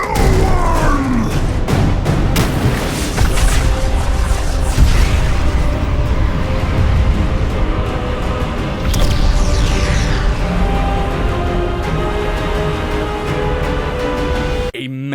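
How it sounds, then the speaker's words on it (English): A massive explosion from a World of Warcraft cinematic fills the scene with a dense, sustained roar of booms, crashes and rumbling debris. The sound is loud and continuous and builds through several surges. "A massive explosion destroys most of the Veil, countless lives are lost"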